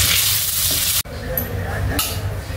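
Paneer pieces fry in oil in a kadhai, giving a loud, continuous sizzle with a few faint clinks and a brief dropout partway through.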